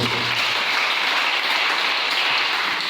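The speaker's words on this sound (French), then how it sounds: "Est-ce qu'on peut acclamer le Seigneur?" Church congregation applauding the Lord in a dense, sustained clap that stays loud and even for a few seconds, with no voices over it.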